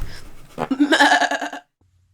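A person imitates a goat with a short, loud, wavering bleat lasting about a second, close up, followed by silence.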